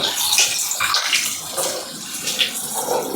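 Hot tap water runs and splashes over noodles being rinsed for a chowmein and pasta dish, a steady close gush with bursts of splashing as the noodles are stirred under the stream.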